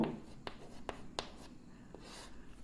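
Chalk or marker writing on a board, a few sharp taps and short scratchy strokes spaced irregularly, fairly quiet and close with no talk over them.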